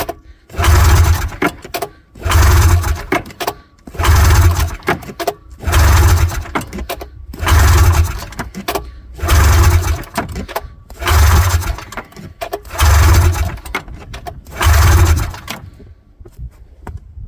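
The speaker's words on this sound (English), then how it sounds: "So let's give this a few pulls and we'll see what happens here." An old Ski-Doo snowmobile engine that has not run in years is pull-started again and again, about eight loud rhythmic cranking surges each followed by a brief pause, none catching into a run.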